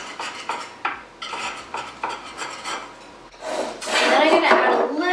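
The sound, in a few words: knife run around the edge of mini cakes in ramekins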